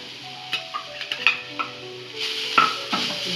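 Grated coconut dry-roasts in an empty kadai, stirred with soft scraping strokes and light taps of a spoon against the pan, a faint crackle rising near the end, close and with no voices.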